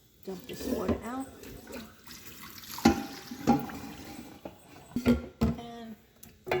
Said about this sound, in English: Dump this water out.